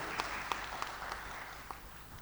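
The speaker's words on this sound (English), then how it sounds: "So a lot of applause for the Purushottam Bhai" A crowd at a conference forum applauds with a steady wash of clapping, a few individual claps standing out sharply, heard from some distance.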